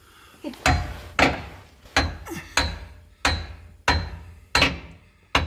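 Nine sharp metallic hammer blows at a steady, deliberate pace while reinstalling parts on a Jeep Sahara Unlimited, each ringing briefly before the next strike, close by with no talking.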